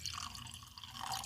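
Blended Scotch whisky trickles from a bottle into a glass in a soft, faint liquid pour with light dripping, ending in a sudden louder knock.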